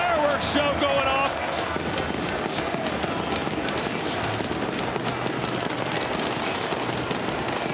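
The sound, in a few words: fireworks show going off in arena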